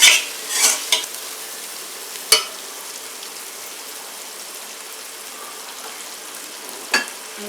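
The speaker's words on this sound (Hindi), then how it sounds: "चार 5 मिनट इसको भूनिए ताकि चनों के अंदर अच्छी तरह सारा मसाला" Chickpeas fry with spices in a pan, giving a steady hiss of sizzling. A few sharp scrapes and clinks of stirring land near the start and again toward the end.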